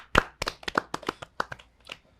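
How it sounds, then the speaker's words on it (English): A small group claps to welcome a guest, a short burst of sharp, separate hand claps that thins out within about two seconds, close and dry. "Let's Clap it up."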